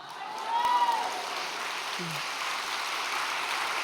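Applause from an audience at a Korean Dano-day training gathering, a dense, steady wash of clapping rising after the first half-second and holding at moderate level throughout, with a brief voice sound near the middle.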